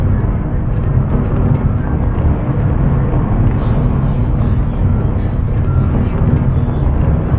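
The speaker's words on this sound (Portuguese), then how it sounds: "Dentro do ônibus tá barulhento demais, hein?" Loud, steady rumble inside a moving bus on the road, a constant low drone of engine and road noise filling the cabin with no pauses.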